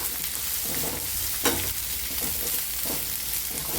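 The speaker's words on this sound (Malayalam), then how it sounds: "സവോള വഴറ്റാൻ വേണ്ടി ഇത്തിരി ഉപ്പ് ഇട്ട് കൊടുക്കണ്ട കേട്ടോ പെട്ടെന്നാവാൻ" Sliced onions sauté in a pan with a pinch of salt, giving a steady, close, even sizzle with a faint stir or two and no talking.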